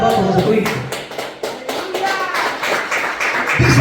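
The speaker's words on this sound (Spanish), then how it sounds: "Denle un fuerte aplauso a Jesucristo." Church congregation at an evangelist's service clapping in quick, uneven bursts, with scattered voices and a child's speech mixed into the applause.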